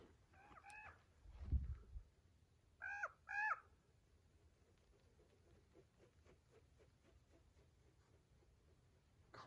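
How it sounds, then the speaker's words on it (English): A few distant caws from crows outdoors in northeast Utah, two short bursts separated by a thump, then quiet ambient air with faint background noise. "Crows."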